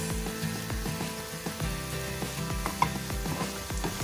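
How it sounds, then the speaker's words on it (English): Ingredients frying in a pan for the tempering of a South Indian yogurt soup with ajwain, a steady close sizzle with repeated soft knocks of stirring. "Fry like this."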